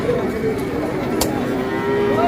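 A young crossbred heifer calf moos among other livestock at a rural cattle market, one clear bleating call standing out from a busy, noisy crowd background.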